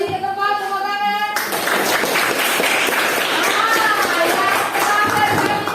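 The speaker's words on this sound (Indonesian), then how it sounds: "Tepuk tangan." Students in a classroom break into clapping after a tone fades, a dense run of quick claps from a small group that carries on steadily to the end.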